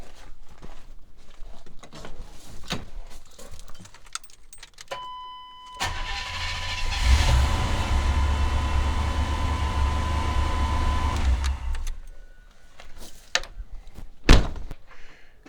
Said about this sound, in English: we'll crank her up and see how she goes